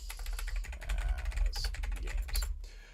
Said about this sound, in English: sorry about my keyboard, it's mechanical